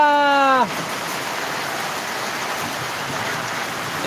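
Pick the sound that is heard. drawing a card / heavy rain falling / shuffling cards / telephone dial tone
heavy rain falling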